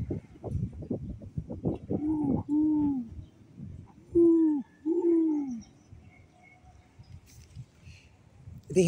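Great horned owl giving a series of low, deep hoots, several spaced calls in a row, clear and fairly close outdoors at night with light background noise.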